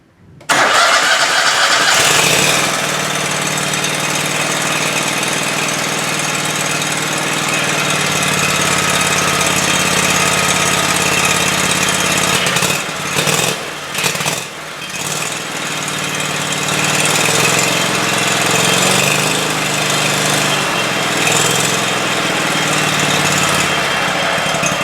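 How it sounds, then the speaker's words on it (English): The engine of a Cub Cadet GTX2100 lawn tractor cranks and catches, then settles into a loud, steady close-up idle that dips briefly midway before running on evenly. "So I'm going to start it now."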